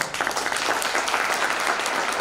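Keynote audience at a Teachers' Day conference gives a big round of applause, a brief, dense burst of clapping that holds steady from start to finish.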